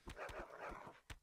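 A dog enemy in the video game Keplerth gives a series of quick growling yelps with sharp footstep-like thumps, sounding close and fairly quiet.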